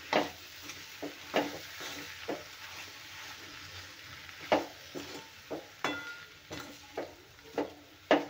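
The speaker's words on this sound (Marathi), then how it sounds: "आता आलू घालून झाले तर आपण हे छान मिक्स करूया." Potato filling for kachori is stirred in a pan, with quiet, irregular spoon scrapes and light clinks against the metal over a faint sizzle.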